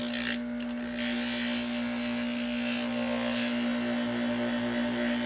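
A Pryme MX cleaning pad driven by a power tool polishes scratched, gouged metal, producing a steady motor hum with a persistent tonal whine and brief scrubbing bursts, close and continuous.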